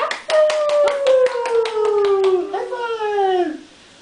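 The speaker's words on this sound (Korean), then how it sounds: "박수." Rhythmic hand clapping at a first-birthday celebration, about a dozen quick, even claps beneath a long sung or drawn-out voice that glides downward, close and fairly loud.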